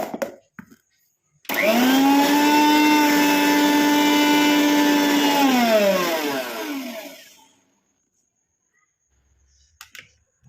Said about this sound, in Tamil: கொஞ்சம் கூட அரைச்சிக்கலாம் ஓரளவுக்கு தான் பொடி ஆயிருக்கு